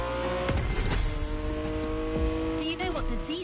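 A BMW Z sports car engine revs and pulls away with brief tire squeal, close and steady over a droning music bed, while a voice talks over it.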